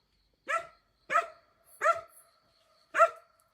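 Farm dogs bark fiercely at night in a rural hillside setting, four sharp, separate barks spaced about a second apart, loud and close, with nothing else in the background.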